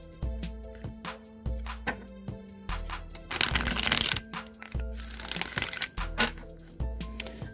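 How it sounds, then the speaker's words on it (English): A deck of Rider-Waite tarot cards is shuffled up close in quick, rhythmic riffles and soft slaps, with a louder papery flurry midway through. "let's go ahead and shuffle up these Rider-Waite cards"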